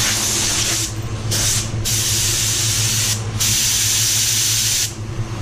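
A spray gun applying PPG EC550 clear coat at 35 PSI hisses loudly and close in long bursts, briefly pausing several times between passes over a steady low hum.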